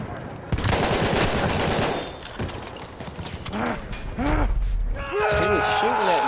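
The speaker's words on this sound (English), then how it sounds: "Oh man, this gun shreds." Rapid machine gun fire in the Battlefield 1 video game, heard as loud continuous bursts mixed with clanking game effects and engine noise, while a player talks over the action.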